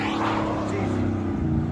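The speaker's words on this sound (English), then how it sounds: "Wow, that's a fast truck. That's a big truck." A big truck drives off fast, its engine a steady loud rumble with rising tones, heard close throughout.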